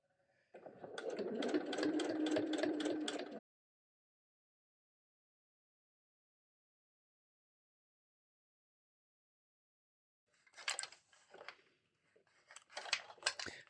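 A sewing machine runs in one steady burst of about three seconds while stitching a zippy circle pouch. Several seconds of silence follow, then shorter, choppier bursts of machine noise near the end.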